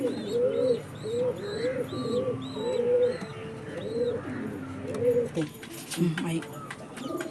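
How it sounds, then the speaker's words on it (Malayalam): Female pigeon at a loft, cooing in repeated soft rounds close by, with other birds chirping high in the background and some handling or movement noise near the end. "ഇപ്പോൾ ഗൈസ് ഇതാണ് പ്രാവ്."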